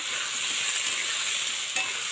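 Onion, garlic and ginger fry in a pan with a steady, even hiss of sizzling oil, close and continuous, with a faint stir near the end.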